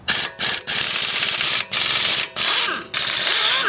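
A ratchet wrench loosens a bolt on a car's power steering hose behind the wheel, giving loud, close, rapid clicking bursts broken by short pauses between strokes.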